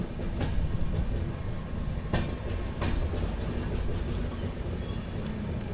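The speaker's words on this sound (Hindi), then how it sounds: "फ़िलहाल दोस्तों अपनी ट्रेन पहुँच रही है अहिल्या नगर।" Pune AC Duronto Express train arriving at Ahilyanagar (Ahmednagar) station, a steady rumble of rolling carriages with a few sharp clicks and clunks from the wheels over track joints, no voices.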